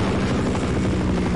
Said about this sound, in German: Oh, Hubschrauber.